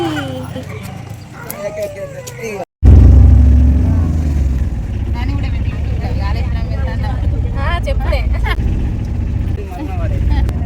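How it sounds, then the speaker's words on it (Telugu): An auto rickshaw pulls up on a group trip to Kaleshwaram, its loud, steady engine rumble and rattle starting abruptly and running under constant chatter and voices. "ఆటో వచ్చింది"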